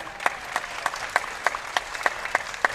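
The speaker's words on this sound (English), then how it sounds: "Would you please give them one more round of applause?" Crowd at a collegiate baseball game between Hornell and Genesee gives a round of applause for host families, light scattered clapping with distinct individual claps at a moderate distance.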